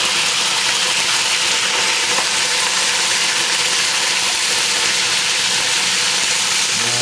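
Small sausages fry in a pan in a restaurant kitchen, giving a steady, dense sizzle that holds close and even throughout with no talking.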